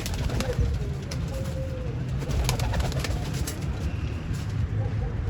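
Pigeons on a rooftop loft coo softly amid steady background noise, with occasional calls from several birds at a moderate distance.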